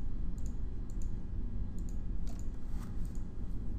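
Quick, light mouse clicks while clicking through online poker hands, arriving in small irregular bursts over a low steady background hum, with no voices.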